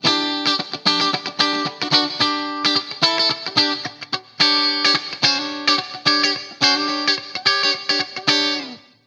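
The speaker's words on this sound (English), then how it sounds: "So that kind of thing is the clean channel, and it works awesome with this type of chords." Electric guitar chords played through the clean channel of a Friedman Runt 50 amp, a steady sequence of strummed chords in a rhythmic pattern that rings out loud and close, ending with a sustained fading chord.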